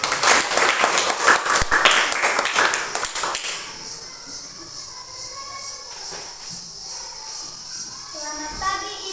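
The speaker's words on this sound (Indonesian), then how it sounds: "Tepuk tangan." Classroom applause from students greeting a group presentation, a dense burst of clapping for about three seconds that quickly fades into quiet room noise and scattered soft sounds.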